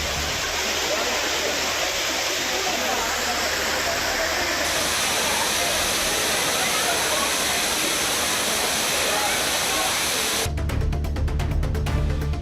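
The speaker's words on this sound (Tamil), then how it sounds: "அனைத்து அருவிகளிலும் தண்ணீர் ஆர்ப்பரித்து கொட்டுகிறது" Water thunders down the Courtallam falls in a dense, steady roar that stays loud and continuous throughout, with a harsher mechanical rattle joining near the end.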